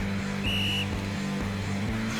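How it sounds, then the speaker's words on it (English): A gym coach in a video game blows one short, sharp, high whistle blast over a droning, rhythmic game soundtrack. "With a violently loud blow of his whistle, the coach also takes his position to show the proper technique"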